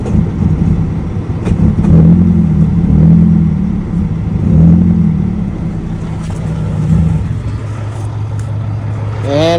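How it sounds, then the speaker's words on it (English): A Mazda 3 engine runs roughly and unevenly, with surging low rumbles that gradually fade as it dies, ending in a few high squeaky sounds. "And it died. My Mazda 3 died."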